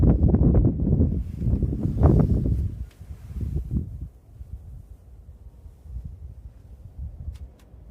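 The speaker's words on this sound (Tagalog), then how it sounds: "grabe talaga ang hangin" Strong wind roars and buffets the microphone during a city's first snowfall of winter, loud and gusty for the first few seconds, then settling into a steadier, lower rumble.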